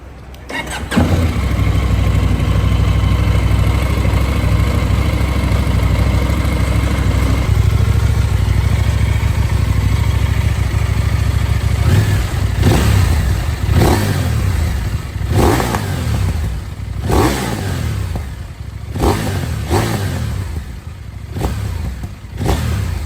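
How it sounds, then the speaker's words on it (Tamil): KTM 990 RC R motorcycle engine starts and settles into a loud, close idle, then is revved in repeated sharp bursts that rise and fall, with no talking. "பைக்கோட ஐடிலிங் அண்ட் ரெவ் மியூசிக் கடைசியாக போட்டிருக்கேன், கேட்டுட்டு போங்க"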